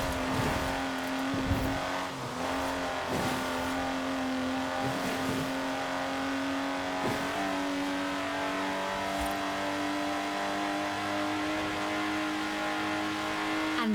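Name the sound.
Lotus Exige sports car driving in video game Forza Horizon 4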